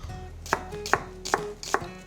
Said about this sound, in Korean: 다음으로 양파 한 개 살짝 두툼하게 슬라이스 썰어 준비해 주세요.